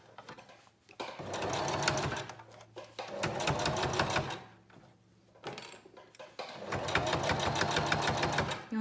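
Sewing machine stitching a reversible fabric face mask, running in three sustained bursts of rapid mechanical stitching separated by short pauses, close and steady.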